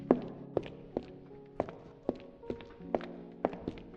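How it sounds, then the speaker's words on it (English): Footsteps in an Unreal Engine 5 game with reverb added, a steady series of about ten distinct thudding steps, each followed by a short echoing tail, fairly quiet and alone. "now there's reverb to make our footsteps sound more realistic"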